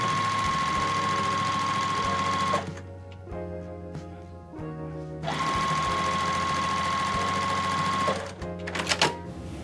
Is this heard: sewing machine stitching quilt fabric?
yes